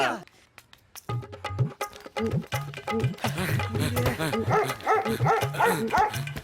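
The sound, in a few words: dog barking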